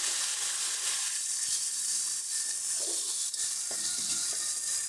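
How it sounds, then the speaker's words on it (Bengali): Spices sizzle and fry in hot oil while being stirred, with cumin and coriander powder mixed in, a steady loud hiss with occasional soft scraping of the spoon and no voices. "যতক্ষণ না মশলাগুলো কষে এগুলোর থেকে তেল ছাড়বে ততক্ষণ এগুলোকে ভালো মতো করে মিশিয়ে নেবে"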